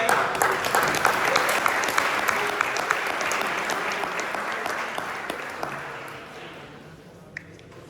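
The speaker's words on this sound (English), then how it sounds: "Big applause for him." An audience at a keynote talk applauds steadily for several seconds, then the clapping thins and fades away, ending with a few scattered claps.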